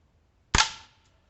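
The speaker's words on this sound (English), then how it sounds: "Shoot that tree dead in front of me, just seeing how quiet it is." A single sharp, fairly quiet shot from an AR15 Sporter II rifle fired at a nearby tree: a crisp crack with a brief decaying tail against near silence.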